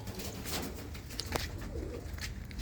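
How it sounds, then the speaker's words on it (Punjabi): Madrasi pigeons of the Andhra breed coo inside a loft, soft low throaty calls repeating over a steady background rustle, with no talking. "ਬਾਈ ਹੁਣਾਂ ਨੇ ਬਈ ਮਦਰਾਸੀ ਕਬੂਤਰ ਵੀ ਵਿੱਚ ਰੱਖੇ ਹੋਏ ਨੇ"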